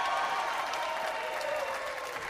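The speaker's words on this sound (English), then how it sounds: "you'll hear a big round of applause once he's done" After a college basketball championship game, the arena crowd applauds as Liberty's head coach cuts down the nets, a loud sustained roar of clapping and cheering that stays even from start to finish.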